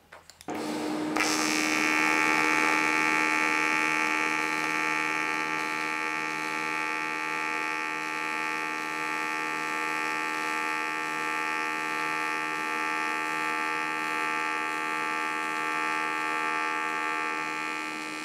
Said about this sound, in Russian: Собственно, будем сваривать пластины алюминиевые.